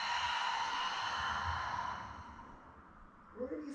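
A long, breathy exhale during a guided breathing exercise, fading gradually over a few seconds, close and fairly quiet, with a soft rustle near the end.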